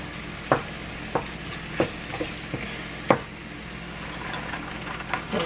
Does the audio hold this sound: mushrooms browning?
yes